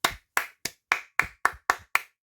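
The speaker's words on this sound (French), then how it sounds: "suivi de mes applaudissements habituels dans chaque review Lego" Eight sharp hand claps from one person, close and crisp, evenly spaced in a quick steady rhythm with silence between each clap.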